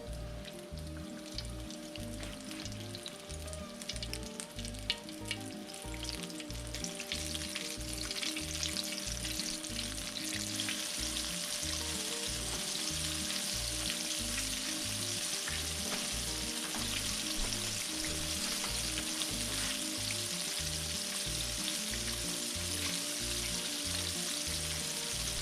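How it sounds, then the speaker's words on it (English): Boneless chicken strips frying in hot oil, a steady dense sizzle and crackle that runs on continuously and close up, with no voices. "I'm going to start dropping my chicken strips into the oil."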